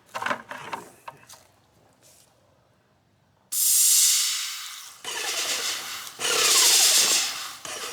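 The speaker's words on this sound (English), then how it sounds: "So I'm just going to spray into the bucket." Graco Magnum X7 airless sprayer blasting paint into a bucket, a loud steady hiss that starts abruptly, drops briefly, then resumes in long sustained bursts.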